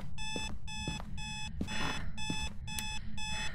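An alarm clock in the horror video game Phasmophobia beeps in the next room, giving six evenly spaced bursts of rapid electronic beeping over a low rumbling background, with no talking.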